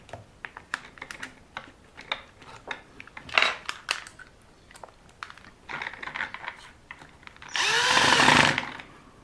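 A power screwdriver drives screws into an LC Racing L6039 RC car bumper, with scattered clicks and rattles of the bit and parts before a loud whirring burst of the motor near the end.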